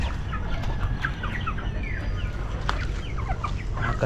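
Chickens raised for slaughter cluck and call in a busy yard, several birds layered at moderate distance over steady outdoor background noise, with no talk.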